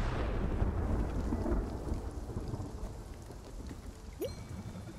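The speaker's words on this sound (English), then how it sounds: "The thunder might be a little loud." A thunderstorm rumbles in the video game Spiritfarer: a deep rolling thunder roar fades slowly beneath steady hissing rain, with a brief sharp click near the end, and no voices.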